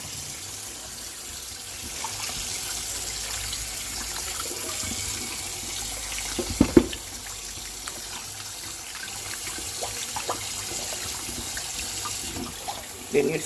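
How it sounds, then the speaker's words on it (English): Oxtail being washed with water and vinegar in a kitchen sink, a steady hiss of running tap water with scattered splashes and handling clatter, continuous throughout. "Pour some vinegar on it and wash it again."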